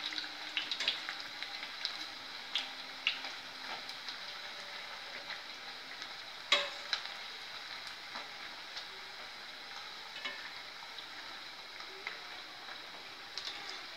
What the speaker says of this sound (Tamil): கொஞ்சம் கொஞ்சமாக போட்டு நம்ம பொரிச்சுக்கலாம்